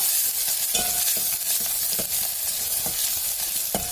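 Onion and garlic sizzle steadily in hot oil for a tempering, with periodic stirring scrapes and clinks of a spoon in the pan, close and continuous with no talking.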